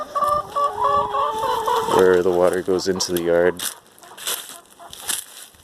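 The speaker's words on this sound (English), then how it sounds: "Hi, chickens." Backyard chickens cluck in short, repeated bursts near a mulberry tree, close and clear, partly under a man's speech and mixed with rhythmic fowl calls.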